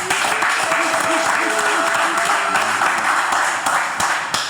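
A crowd at a live drinking-show taping applauds and cheers continuously, dense clapping filling the whole stretch at a steady loud level, with a few voices shouting within the noise.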